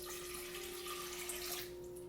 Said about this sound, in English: So you're gonna turn your pot to medium heat and pour the water in.